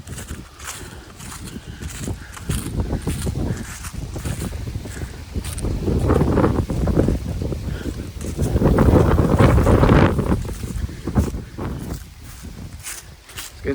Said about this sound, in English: Getting a little breezy.